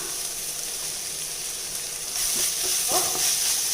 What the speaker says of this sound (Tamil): இப்போ அடுப்பை குறைச்சி வச்சுட்டு நல்லா வதக்கிக்கலாங்க